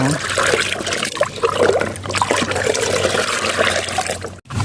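Liquid fertilizer is poured over garden plants, chili and vegetables, making a steady, fairly loud splashing and trickling wash that continues throughout, with a brief break near the end.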